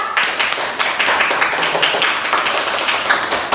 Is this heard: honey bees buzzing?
no